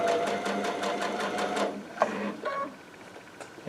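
A Baby Lock Altair sewing machine stitches quilt binding in a quick, even run of close mechanical thumps that stops after about two seconds, followed by a few faint clicks and handling sounds.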